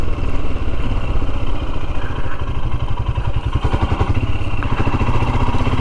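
A Royal Enfield Himalayan motorcycle riding along Cornish country lanes, its engine thumping loud and steady under constant wind rush, the rhythmic pulse holding throughout.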